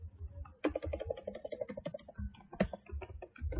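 Fast, uneven clicking of typing on a computer keyboard while entering product data into an Angular and ASP.NET cafe management app, close and continuous with brief pauses between bursts.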